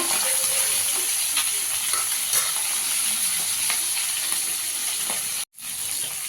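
Small bacha fish fry in hot oil, flipped to brown the second side: a loud, steady, dense sizzle with scattered spits and crackles, cutting out briefly near the end before resuming.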